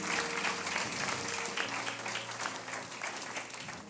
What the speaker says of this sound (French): là où je veux que vous applaudissiez encore plus fort